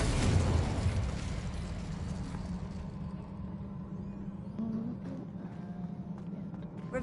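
Confringo and Incendio spell blasts go off in the Hogwarts Legacy video game, a burst of booming fire at the start followed by rumbling effects, with a voice calling out over them.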